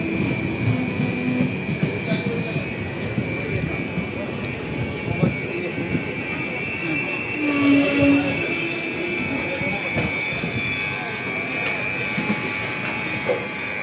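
A train runs steadily on the rails at a station, its broad rumble and rolling clatter continuous throughout with brief squeals, while faint voices and station bustle sit underneath.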